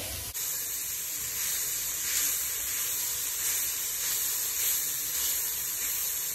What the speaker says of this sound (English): So the corn has been sauteing a little bit on the stove with the onions, the garlic, the salt, the cumin, turmeric